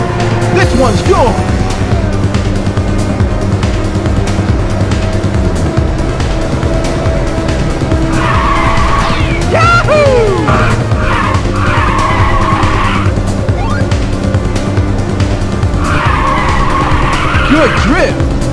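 Cars drift through corners in the racing game Ridge Racer 2, the tires skidding and squealing loudly in repeated bursts over a constant high-revving engine drone, with an announcer's voice calling out in between.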